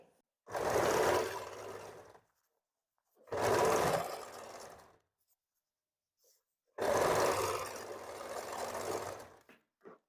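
A sewing machine stitching a baby frock runs in three loud bursts of rapid whirring, separated by brief silences, close up with no talk.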